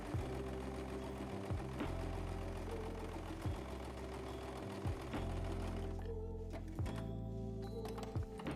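A sewing machine stitches the top of a felt slipper, running in steady motor bursts with regular thunking pauses as the fabric is repositioned, loud and close throughout.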